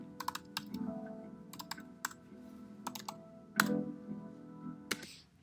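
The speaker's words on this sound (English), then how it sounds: "The keyboard sounds amazing." Bursts of quick computer keyboard typing, crisp and close, with short pauses between runs of keystrokes over a faint hum.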